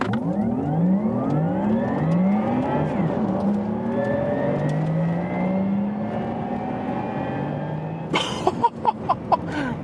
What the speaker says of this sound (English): Thomas's EV Performance Driving Lounge with the Porsche Taycan GTS. Launch control here.